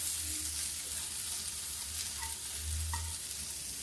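Peas with cumin sizzle steadily while being stirred in an iron kadhai, a constant close frying hiss with faint scraping.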